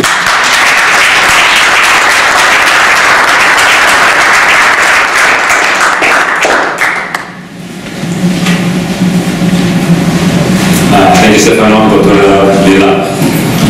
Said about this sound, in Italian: lo accoglierei con un applauso perché siamo bolognesi